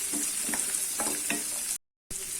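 Chopped garlic sizzles steadily in hot oil in a pan, with a few soft scrapes of stirring, then the sound cuts out briefly before the sizzle resumes.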